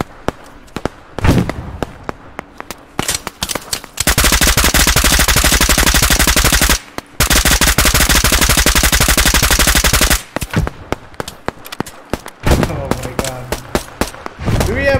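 Sniper rifle fire in the video game Operation Harsh Doorstop, heard as loud, sharp cracks separated by gaps, along with long stretches of dense, rapid automatic gunfire, all close and dominant.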